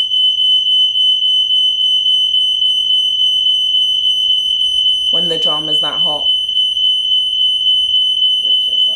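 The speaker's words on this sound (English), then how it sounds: "Where's the fire alarm going off?" A smoke alarm shrills continuously in a home, a loud unbroken high-pitched tone running throughout, with a voice speaking briefly over it midway.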